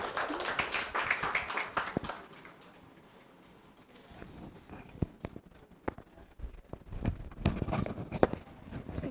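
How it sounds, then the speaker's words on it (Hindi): Students in a classroom at a Teachers' Day celebration clap for a classmate about to recite a poem, a brisk burst of clapping that fades out, then returns more scattered and uneven. "रितु कुमारी के लिए जोरदार तालियां"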